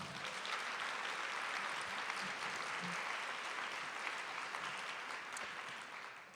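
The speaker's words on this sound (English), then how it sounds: "let's give them a round of applause" A conference audience applauds panelists and speakers after an urban women's health session, sustained dense clapping from a large crowd, steady and fairly distant, easing slightly toward the end.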